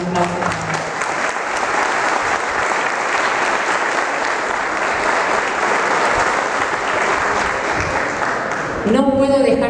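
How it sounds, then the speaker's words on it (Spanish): Sustained applause from an audience at the inauguration of a new Forcam office in Nueve de Julio, steady and dense for nearly ten seconds before cutting off abruptly, with talk under the clapping. "Quiero también brindarle un aplauso."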